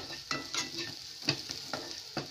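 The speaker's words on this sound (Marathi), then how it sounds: "कढीपत्ता टाकायचा, परतून घ्यायचा।" Curry leaves sauté with onion in a pan for dal khichadi, a soft background sizzle broken by about six sharp spatula scrapes in an uneven rhythm, close but fairly quiet.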